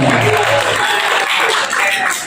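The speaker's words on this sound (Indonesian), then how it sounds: "Tepuk tangan." An audience at a journalism, graphic design and videography training event in Soko district claps loudly and continuously for a couple of seconds, with a voice briefly audible at the start.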